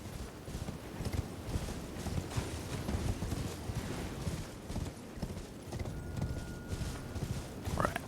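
Horse hooves clip-clopping steadily at a gallop while riding across open ground in Elden Ring: Shadow of the Erdtree, a continuous rhythmic pounding at moderate level with a brief bright call near the end.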